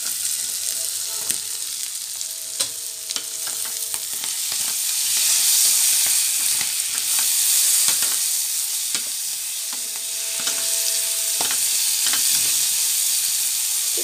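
Paneer bhurji frying in a pan holds a loud, continuous sizzle and hiss, broken by occasional spatula stirs and scrapes, with no voices.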